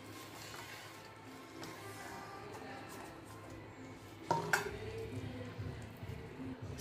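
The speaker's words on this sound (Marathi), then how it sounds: "आता ही दळलेली साखर टाकूया, मिक्स करून घ्यायची।" Raw mango pulp and ground sugar stirred together by hand in a wide plate for a mango drink, giving soft, steady scraping and swishing, with a sharper clink of utensil on metal about two-thirds through.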